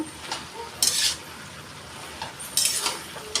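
Fish curry with pointed gourd, turmeric, cumin powder and a little sugar is stirred in a sizzling pan, with two bursts of scraping stirs over a steady close frying hiss.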